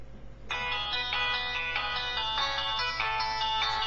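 A mobile phone ringtone plays loud and steady, a bright repeating electronic melody that starts abruptly and runs on without talk.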